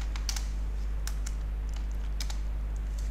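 A computer keyboard is used to type a SQL Server delete query, giving a few scattered, crisp keystrokes in short bursts over a steady low electrical hum.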